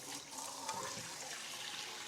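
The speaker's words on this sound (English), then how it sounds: "let's put this coconut oil in some warm water" Warm water runs from a kitchen tap to soften a jar of coconut oil, a steady close splashing flow that lasts throughout without talk.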